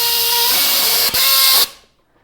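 Air compressor feeding an AK-III tufting gun gives a loud, steady rushing hiss for about a second and a half, with a brief dip partway, before cutting off abruptly and leaving near silence.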